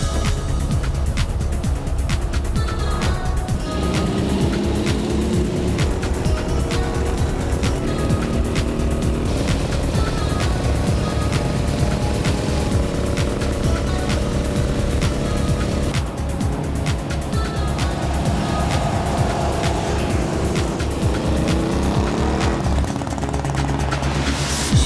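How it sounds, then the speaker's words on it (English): Vintage motorcycles, led by a 1973 BMW 'Toaster Tank', ride together along St. Augustine backroads, their engines droning loudly and steadily throughout with no pauses. "Rolling through the St. Augustine backroads with Grand Marshal Dennis Gage in the lead on his '73 Toaster Tank Beamer."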